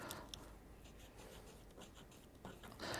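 A fine nib pen scratches across paper in soft, continuous strokes, quiet and close, with slight scraping bursts and no talking.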